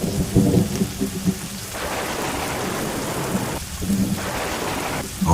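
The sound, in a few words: heavy rain and thunderstorm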